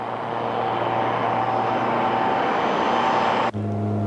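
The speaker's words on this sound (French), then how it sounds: "Enfin, c'est le décollage." A skydiving airplane takes off, its propeller engine droning loud and close at a steady pitch before the tone shifts abruptly near the end.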